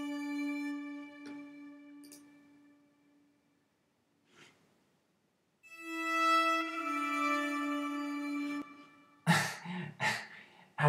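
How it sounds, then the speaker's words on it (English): A strange animalistic scream sample inside a hip-hop beat built in Logic Pro X: sustained harmonic tones swell and fade, then harsh, noisy scream-like bursts hit near the end, loud with no talking. "it sounds like this animalistic scream or something like that"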